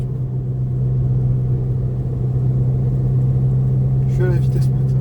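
A Volkswagen Golf 6 TDI with a stage 2 tune drones steadily at top speed, a deep constant engine and road rumble heard from inside the cabin, with a brief voice near the end.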